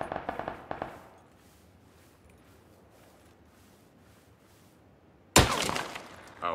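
Gunfire from a PUBG battle royale match: a short burst of sharp cracks opens, then a quiet gap, and a single loud, harsh blast with a lingering tail hits near the end.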